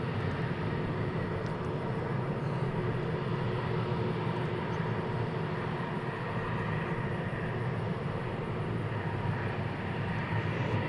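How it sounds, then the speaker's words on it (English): An Airbus A321neo jet departs DFW airport, heard as a steady, broadband engine roar that holds at an even level throughout, distant rather than close, with no talk over it. "A321neo departures"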